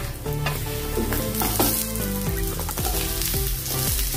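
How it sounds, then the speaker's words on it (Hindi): Small chopped onions frying in a pan with coconut, a loud continuous sizzle close up, punctuated by repeated stirring knocks and scrapes of a spoon against the pan. "अभी हम प्याज डालेंगे इसमें"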